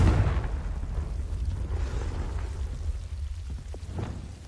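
A Confringo blasting spell goes off in the video game Hogwarts Legacy: a deep, rumbling explosion that hits loud at the start, then trails into a crackling, rain-like debris wash that slowly fades.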